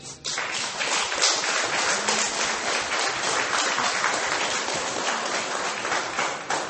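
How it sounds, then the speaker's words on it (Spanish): A church congregation claps together during a sermon, a dense, continuous burst of many hands that holds strong and steady for several seconds with no talking over it. "Denle un aplauso al Rey."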